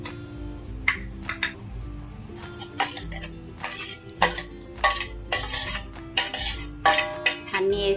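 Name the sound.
mixing cut fruits in a bowl with a spoon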